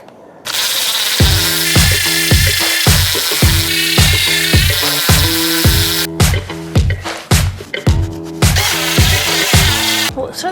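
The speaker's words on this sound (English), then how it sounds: "I'm going to scrub it with Ryobi Tough Black. This is the hardest one that they got. I'm going to put it on the drill." A drill spinning a Ryobi Tough Black scrub brush scrubs weights, a loud close whirring motor with rhythmic scraping bursts as the bristles grind back and forth across the metal, with no talking.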